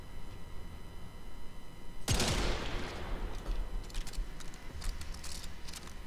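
Gunfire in the sci-fi shooter Warframe: one loud, close shot rings out partway through, followed by a series of softer, scattered shots and impacts over a steady game background.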